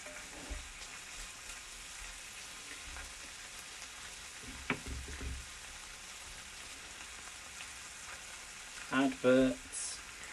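Garlic fries in a pan during preparation of an Irish stew, a soft, steady sizzle running quietly throughout, with a few brief clinks and knocks and some louder bumps near the end.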